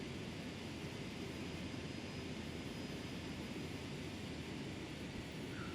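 A simulated Boeing 757 taxiing in a flight simulator game, its jet engines producing a steady, even broadband roar that holds constant throughout, with no voices.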